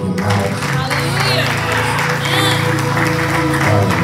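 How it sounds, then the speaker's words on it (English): A church congregation claps along during a worship service, rhythmic hand clapping mixed with a sustained musical backing and voices, fairly loud and busy throughout. "Can you clap your hands and open your mouth?"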